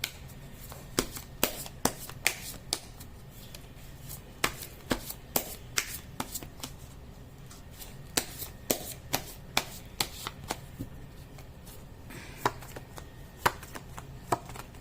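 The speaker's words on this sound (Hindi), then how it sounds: "कर लेते हैं कार्ड की शफलिंग।" Tarot cards are shuffled by hand in a steady series of crisp, close riffling slaps and taps, repeating at a brisk rhythm with no talking over them.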